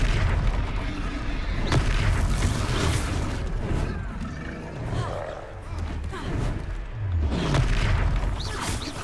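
Confringo fire spell detonations in the Hogwarts Legacy video game come as booming, roaring blasts over dense battle noise, loud and sustained with rumbling swells, while voices shout beneath the din.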